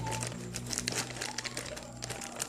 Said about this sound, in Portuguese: eu tenho esse granulado, por sinal nem abri ainda, da Mil Cores, tá? Vou abrir ele agora